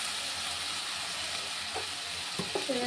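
Cumin seeds hit hot oil for a fish curry with taro, producing a loud, continuous frying hiss that stays even throughout, with a few faint clinks near the end. No one talks.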